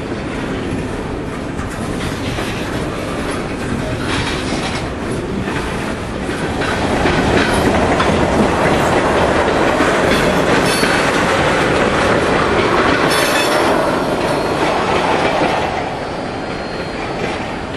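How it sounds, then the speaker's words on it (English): An IAIS 513 diesel locomotive revs up and pulls out of a siding, a loud steady engine roar that swells midway with rumbling rail noise and wheel clatter, heard alone without talk. "Now 513 begins to rev up out of the siding."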